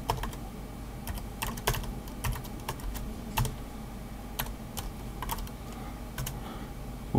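Steady keyboard typing while an email address is entered on a computer: a continuous run of light, close key clicks with a few louder taps, no voices present.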